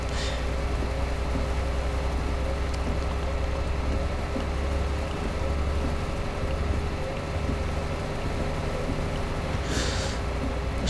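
Heavy rain pours down in Euro Truck Simulator 2 during a haul from Frankfurt to Aberdeen, a dense, unbroken patter and hiss over a low rumbling truck engine, loud and steady with no voices.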